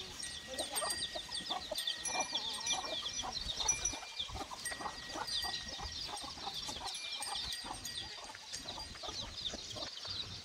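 Free-range village hens at a farm shelter cluck in a dense, continuous chorus, close and steady throughout, with no voices.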